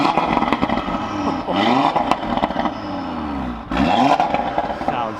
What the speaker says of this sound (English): should we give it a few revs?